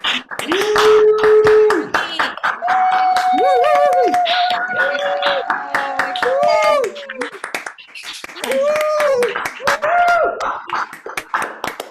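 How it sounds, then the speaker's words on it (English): Online audience applause for students at a classic Italian art song evening, with scattered, uneven clapping over many open microphones, mixed with sustained, wavering voices and chatter, fairly loud and continuous. "let's offer a cacophonous round of applause to all of our"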